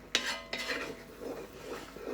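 A spoon stirs risotto in a hot Dutch oven, with two sharp metallic scrapes against the pot at the start followed by softer, repeated scraping and gentle sizzling, close and fairly quiet.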